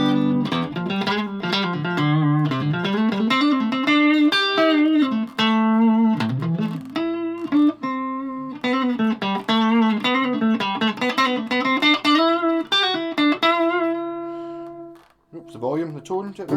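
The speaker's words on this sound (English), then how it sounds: "You've got a bit of reverb on. This amp has reverb." Electric guitar played through an amplifier with reverb switched on, ringing sustained notes and chords in a steady run, close and loud, ending with a short burst.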